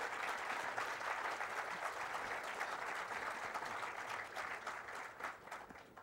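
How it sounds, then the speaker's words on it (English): An audience claps for panel guests at a literary festival session, dense steady applause sustained throughout at low level, slowly thinning toward the end. "if I could start with a round of applause for these very, very special people"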